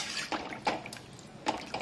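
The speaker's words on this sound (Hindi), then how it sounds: "अब हम इसमें पानी डालेंगे" Water is poured into a simmering rohu fish curry gravy in a pan, making a few brief, close splashes and liquid spatters in short bursts.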